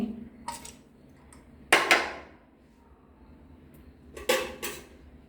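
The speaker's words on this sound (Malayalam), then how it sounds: "പ്രഷർ കുക്കർ തുറന്ന് അതിലിനി തവര ചേർത്ത് കൊടുക്കുക" A pressure cooker of cooked dal is opened and chopped ivy gourd is added, giving a few brief metallic clatters and scrapes of the lid and pot, spaced apart against a quiet kitchen background.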